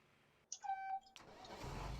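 A Challenger tractor in Farming Simulator 17 starts up with a brief whine and a steady tone, then its engine catches and settles into a rising, broadband idle rumble that grows louder.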